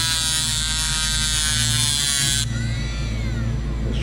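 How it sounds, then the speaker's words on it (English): A power grinder screams continuously at close range, cutting a tab off a Ford Cobra bumper, its high buzzing whine holding steady then shifting pitch partway through. "I'm gonna just grind it down and slip it in."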